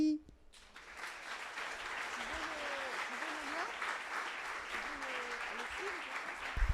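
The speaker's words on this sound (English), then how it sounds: "Give a lot of love and applause to" An audience at a startup pitch event applauds for the Codee messaging app, a steady wash of clapping that swells after a brief pause and holds, with a few faint voices and whoops mixed in.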